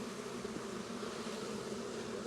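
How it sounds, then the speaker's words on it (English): Honey bees swarm thickly inside an open hive box full of frames, producing a dense, steady buzzing drone that holds without a break, close and continuous with no voices. "This box is full of bees."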